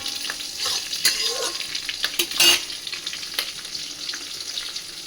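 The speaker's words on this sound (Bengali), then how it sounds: "এটা বেশ নাড়বো, একটু ভাজা ভাজা হয়ে যাবে।" Radish, stems and eggplant frying with five-spice and chili as a spatula stirs them, a soft sizzle broken by several clacking scrapes against the pan.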